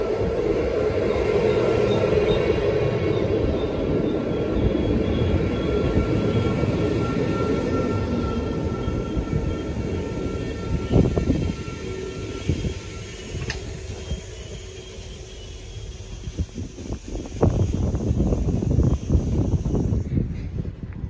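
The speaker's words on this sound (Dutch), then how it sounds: "De trein had eigenlijk al lang uit dienst moeten zijn." An old Dutch sprinter train rumbles steadily past with a droning engine and rattling wheels, clattering louder toward the end as carriages roll by.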